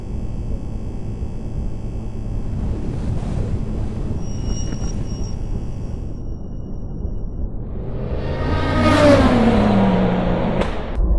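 A Tesla cruises along a road under a manual driver, giving a low steady rolling hum of tyres and cabin noise that swells into a brief whooshing pass near the end.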